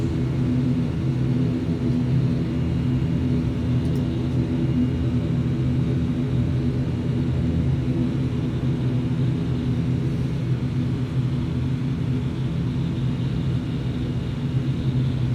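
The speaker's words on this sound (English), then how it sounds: "as we headed along the apron to the northerly runway" An Aurigny airliner taxis along the apron toward the runway at Southampton Airport, a steady low cabin rumble with constant engine drone and no change in level throughout.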